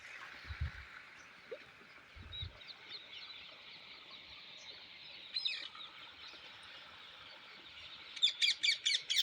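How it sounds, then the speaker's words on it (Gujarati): Several birds chirp and twitter through a foggy early morning beside cold water, a steady chorus of small calls with a burst of sharper, louder tweets near the end. "પક્ષીઓનો પણ અવાજ કલબલ આવી રહ્યો છે સવારમાં"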